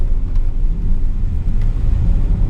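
Deep, loud engine rumble from a 700 HP turbocharged Audi RS7 accelerating, filling the whole moment, a steady throaty roar close by with no voices.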